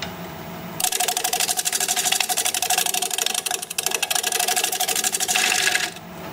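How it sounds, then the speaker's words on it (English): Shear scraping on a wood lathe, a cutter edge cleaning up turned cuts: a dense rapid chattering scrape starts abruptly, holds for about five seconds with a brief dip midway, then stops. "I'm sheer scraping, trying to clean up my cuts a little bit."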